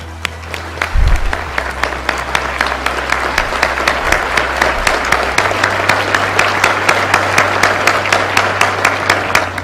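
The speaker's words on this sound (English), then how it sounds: "another round of applause, please, for like those benefactors" An audience at a sports grants check presentation applauds the benefactors with loud, steady clapping that carries on throughout, individual claps standing out near the front over a low hum.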